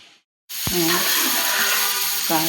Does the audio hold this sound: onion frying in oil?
yes